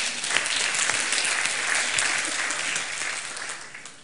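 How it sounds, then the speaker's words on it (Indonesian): A seated audience claps together in a loud, dense burst of applause that holds steady, then tapers slightly toward the end. "Tepuk tangan"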